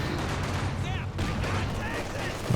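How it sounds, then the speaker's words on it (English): Grenades and gunfire go off in a Company of Heroes 2 battle as dense, continuous explosions and shooting that merge into one loud roar, with a commentator talking over it. "Grenades firing off."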